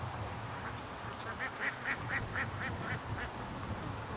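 A duck released back into its flock gives a quick, faint run of about eight evenly spaced quacks at a distance, under a steady background hiss.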